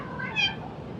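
A cat gives one short, close meow that rises and falls within a second and stands out clearly with no talk over it.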